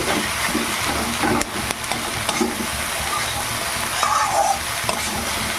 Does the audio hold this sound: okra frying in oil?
yes